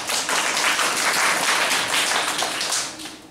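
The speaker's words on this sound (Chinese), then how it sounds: "一起掌声欢迎范老师。" A lecture audience applauds to welcome a law professor from Soochow University, a brief dense burst of clapping that swells and then tapers off.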